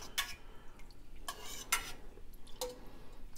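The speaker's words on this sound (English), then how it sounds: "And then just continue to stir periodically throughout" Raw milk curds stirred in a metal cheese pot, giving a few separate scraping, clinking strokes of a utensil against the pot wall at irregular intervals over a quiet background.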